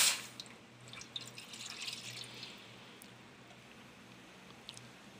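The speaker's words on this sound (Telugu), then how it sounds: "ఇప్పుడు ఇందులో మనం పచ్చనపప్పు ఉడికించుకోవడానికి సరిపడా నీళ్ళనే మనం పోసుకుందాం" Water splashes into a pan on the stove for boiling chana dal, a short gush at the start followed by faint trickles and drips over a low, steady background hum.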